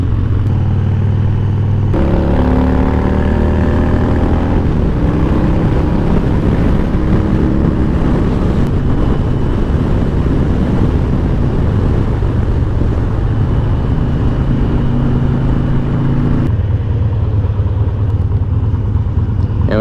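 A 2001 Harley-Davidson Dyna Low Rider motorcycle on the road, its engine droning steadily with rising and falling pitch through gear changes, heard from the rider's position under constant wind rush.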